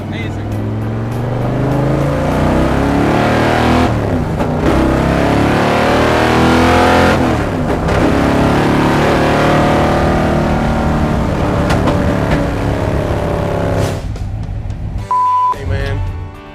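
A 1955 Chevy gasser powered by a Hemi engine drives along loud and steady, its engine roar and exhaust drone filling the whole stretch with brief dips as it shifts, heard from on board.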